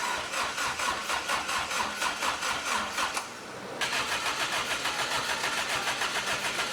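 A swapped Toyota 4A-GE engine cranks with a rhythmic starter churn, catches briefly, then fires and runs with a steady pulsing idle close to the microphone.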